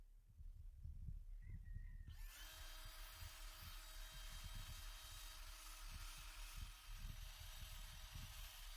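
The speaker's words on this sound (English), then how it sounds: "I use this little bristle brush attached to my drill" A cordless drill fitted with a small bristle brush whirs steadily for several seconds while cleaning debris off a removed lawn mower blade, a high constant whine starting abruptly after a brief quiet lead-in.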